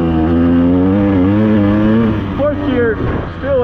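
A KTM 200 EXC two-stroke dirt bike engine lugs in fourth gear, a loud, close, steady drone that rises slightly in pitch as it picks up speed.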